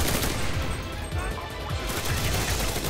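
Gunfire in the World War II shooter game Enlisted, rapid bursts of automatic shots and scattered reports at mid distance, continuous and dense with a brief lull, under faint talk.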